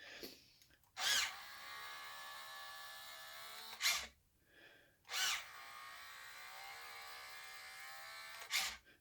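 The tired electric motor of a 2003 Taiyo Team Edge Mutator RC car spins up in repeated short bursts, each a loud whirring rush followed by a lower steady hum, heard close with no talk.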